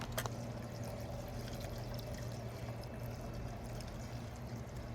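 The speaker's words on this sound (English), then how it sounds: "So as we pour this in, it's going to empty both the gas as well as the oil." Gas and oil mix poured through a funnel into the 1.37 L fuel tank of a 52cc two-cycle backpack leaf blower, a steady, soft liquid trickle running the whole time over a low background hum, with no talking.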